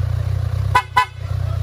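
Two short, bright honks of a Kawasaki Z1000R motorcycle horn in quick succession, close and loud over a low idling engine hum.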